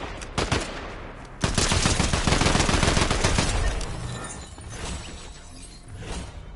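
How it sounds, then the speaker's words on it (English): Rapid assault rifle fire in Fortnite, a dense burst of automatic shots starting sharply and rattling loudly for several seconds before trailing off, with a brief earlier burst. "I like this assault rifle"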